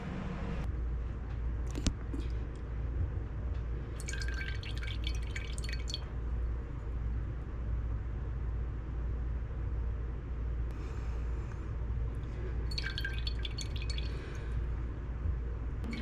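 Tamari drips steadily from a press, one drop falling sharply near the start, with bursts of higher clatter and a constant low hum behind it, and no speech.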